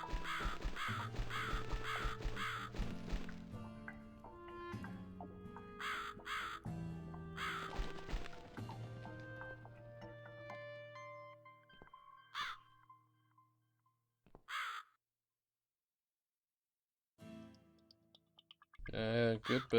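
Repeated harsh bird caws from the video game The Cat Lady, sounding in quick bursts over sustained eerie music tones, then a few sparse caws as the music thins out.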